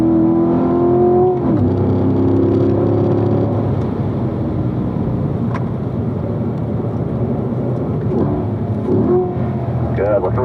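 Race car on the Spring Mountain circuit during a driving school run, engine droning loud and steady throughout with pitch swells as it picks up power, while an instructor's voice talks over it.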